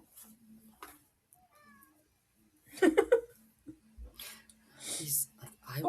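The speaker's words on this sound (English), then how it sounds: "Gordo, meow." A pet cat meows a few times at a moderate distance, short rising calls amid a home conversation, with people talking, whispering and laughing around it.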